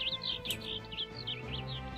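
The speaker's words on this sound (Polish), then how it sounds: "Ptaszki sobie ćwierkają" Birds chirp and tweet in a Minecraft game world, a steady run of bright, repeated high calls over a low background hum, with no talk.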